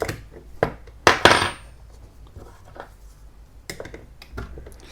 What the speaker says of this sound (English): use one key to fully unscrew this nut.